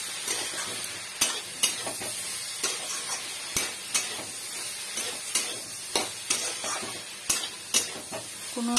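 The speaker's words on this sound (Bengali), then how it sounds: "একটু নাড়াচাড়া করি।" Food is stirred in a pan for a home-cooked lunch, a spoon scraping and knocking against the metal in regular clicks about twice a second over a faint sizzle, fairly quiet and close.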